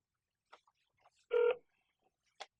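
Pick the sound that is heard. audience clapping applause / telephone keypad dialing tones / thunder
telephone keypad dialing tones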